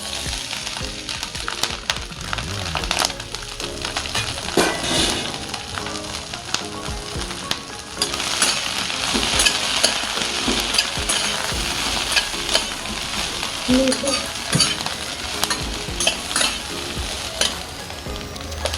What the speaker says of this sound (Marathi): आपण आता परत थोडं तेल टाकणार आहे आणि या मिरच्या आहे ना त्या आपण थोड्या तळून घेणार.